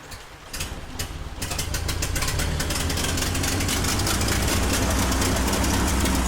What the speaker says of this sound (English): The engine has finally started.